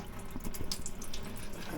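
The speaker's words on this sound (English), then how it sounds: "You can see we got water coming out right now." Water pouring and splashing out of a John Deere 850J military dozer steadily, a continuous gushing trickle, fairly close, with no voices.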